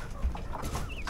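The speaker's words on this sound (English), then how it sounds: "What kind of chickens are those?" 14-week-old chickens for sale cluck softly in a short, busy burst, close by, over a dense background of farm noise.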